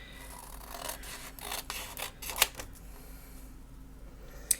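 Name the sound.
cutting paper for a junk journal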